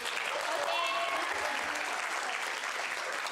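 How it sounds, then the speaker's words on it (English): Audience at a workshop applauding, a steady wash of clapping from many hands, moderately close and continuous, with a voice briefly over it. "give a round of applause to Katie"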